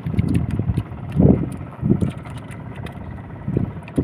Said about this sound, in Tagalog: Lumalakas na ng hanging habagat.